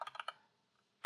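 Several quick keystrokes on a computer keyboard while typing into a browser address bar, then a short pause and one more tap, close and quiet.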